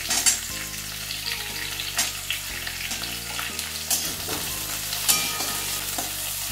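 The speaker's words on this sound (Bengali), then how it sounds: "এইগুলো একটু হালকাভাবে একটু ভেজে নিচ্ছি।" Chopped onion, green chili and capsicum frying in hot oil, a loud continuous sizzle close up with spatula scraping and stirring clinks throughout, no speech.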